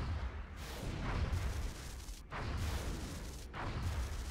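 An interceptor fires on a UFO in XCOM: Enemy Within, producing repeated heavy, booming bursts. Several loud blasts come in close succession against a dense, rumbling background.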